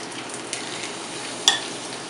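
Chilies frying in hot oil in a pan give a soft, steady sizzle with a few small pops and one sharper crackle midway, close and without talk.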